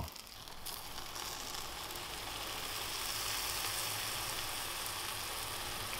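A roast chicken and bacon toastie sizzles steadily in a sandwich press, a close, even frying hiss that carries on without a break.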